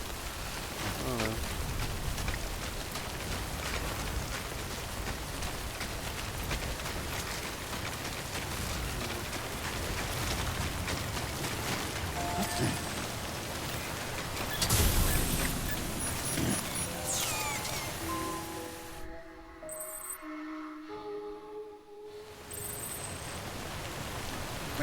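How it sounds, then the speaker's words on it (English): Heavy rain pours steadily in the video game Death Stranding, a dense continuous hiss that dips briefly near the end while faint in-game tones sound beneath. "Rain's not letting up."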